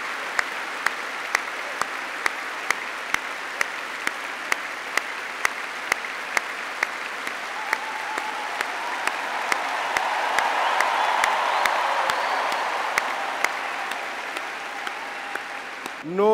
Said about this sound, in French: je vous demande d'acclamer Marie en l'applaudissant très fort